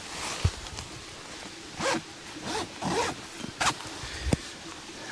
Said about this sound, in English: Nice double zipper.